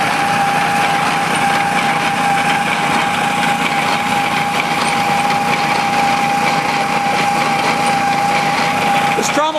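Mining trommel driven by a 5.5 horsepower Honda motor with a gear reduction unit, running as a loud, steady small-engine drone with a constant whining tone throughout.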